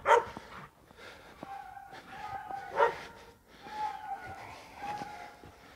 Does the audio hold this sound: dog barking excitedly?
yes